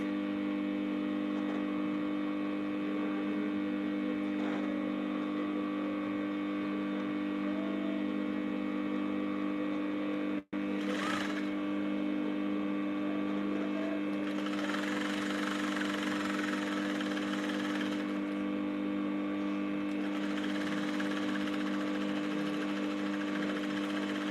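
A sewing machine runs steadily, stitching corset fabric for a corset with bra cups: a continuous mechanical hum with a brief click near the middle and a rougher, busier whir in the later part.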